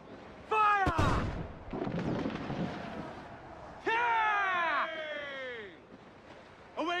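Ship cannons fire in Assassin's Creed Black Flag, with a loud, deep boom and a rumbling blast, while crew voices shout loudly over the gunfire.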